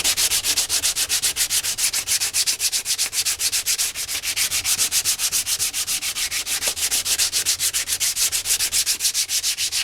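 Primer on a Honda fuel tank is sanded by hand in steady, rapid back-and-forth strokes, a close, even rasping rhythm that runs without pause and with no voices.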